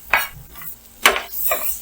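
Onions stirred with a utensil in melted butter in a pan, giving three distinct scraping clinks against the pan over a faint sizzle, close up.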